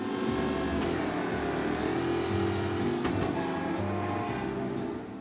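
Corzella car in Mafia: Definitive Edition, its engine humming and revving steadily at a moderate level while cruising, with layered tonal drone throughout and a slight fade at the end.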